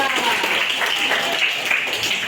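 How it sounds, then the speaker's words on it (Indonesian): Steady, dense clapping from a classroom group of teachers and students honoring group 3, continuing evenly throughout without a break. "tepuk tangan untuk kelompok 3"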